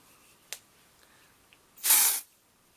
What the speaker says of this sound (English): Now, I'm going to spray the two together.